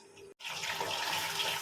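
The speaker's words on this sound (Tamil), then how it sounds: "ஹேண்ட் வாஷ் பண்ணு" A kitchen tap runs for hand washing during cooking. After a brief silent break, the water gushes in a steady, close, broadband rush.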